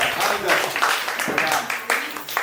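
Small children at Rajapur Bangalwadi school no. 3 clap their hands during a Shiv Jayanti celebration, a close, uneven patter of claps mixed with voices talking over them.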